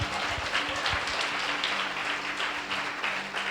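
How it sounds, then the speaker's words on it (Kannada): A church congregation claps during a sermon, a sustained, moderately quiet patter of many hands with a faint low hum underneath, keeping an even level throughout. "ನಂಬುವುದಾದ್ರೆ ಒಂದ್ಸರಿ ಜೋರಾಗಿ ಚಪ್ಪಾಳೆ ಹೊಡೆ"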